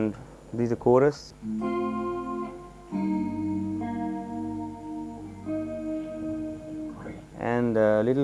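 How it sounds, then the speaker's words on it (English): Electric guitar through a chorus effect plays held chords with a shimmering, slightly wavering sustain, close and clear; someone briefly speaks at the start and end. "And this is a chorus."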